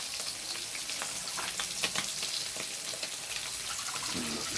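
Vegetables boil in a pot for a Bisaya-style home dish, a steady close bubbling and sizzling hiss with faint clinks and stirring, without talk.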